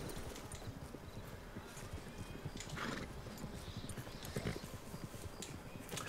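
Horse hooves in Red Dead Redemption 2 clip-clop steadily at a walking pace, fairly faint, under a low rumbling background.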